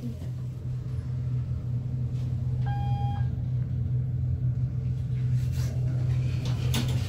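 Ride inside a custom Dover Impulse traction elevator: a steady low machine hum and rumble runs throughout, with a brief chime-like tone near the middle and faint clatter of the car and doors later.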